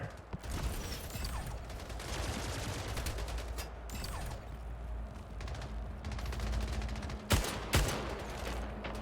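Rapid bursts of assault rifle fire in the sci-fi arena shooter Splitgate, dense crackling volleys with mechanical clicks, and two sharper louder shots near the end, no talking.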